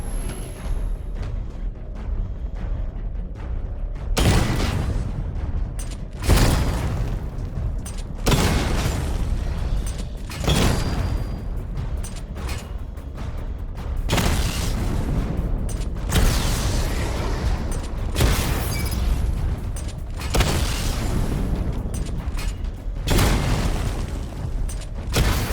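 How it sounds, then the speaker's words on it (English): Batman's vehicle in the video game Batman: Arkham Knight fires a missile barrage, a series of loud, close booming bursts repeating every couple of seconds over a steady mechanical rumble. "Charge the missile barrage to level 2 to destroy up to 4 targets at once."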